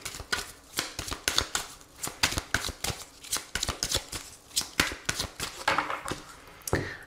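Oracle cards shuffled steadily by hand, a long run of quick, crisp riffling flutters repeating in an even rhythm, close and clear with no talking.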